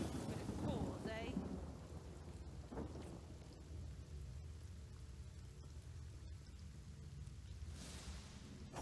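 Steady hiss of rain pouring in the video game Divinity: Original Sin, with a low rumble of thunder at the start and a few brief chirps and tones rising over the constant wash; a faint voice is heard early on.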